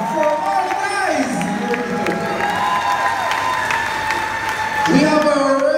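Crowd applause and cheering for performers at a reggae event in Ocho Rios, Jamaica, clapping and whoops running steadily under an announcer's voice and background music.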